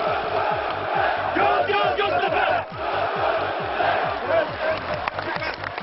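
Göztepe football fans chant together in a stadium, their loud crowd voices carrying a steady rhythmic beat that keeps going from start to end, with bursts of cheering and applause mixed in.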